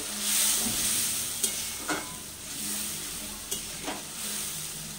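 Spice paste frying in oil in a pan for a chhana bhujia curry, a steady close sizzle broken by a few sharp scrapes of stirring.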